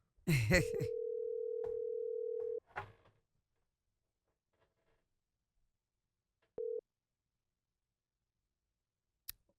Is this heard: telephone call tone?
yes